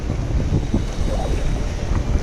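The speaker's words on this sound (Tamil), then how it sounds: "மணல் காற்றாக தான் அடிக்குது." Gusty desert wind drives sand through the air in Lusail, Qatar, roaring as a steady low rumble with rough buffeting against the microphone, close and loud throughout.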